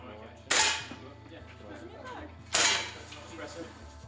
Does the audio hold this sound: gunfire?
yes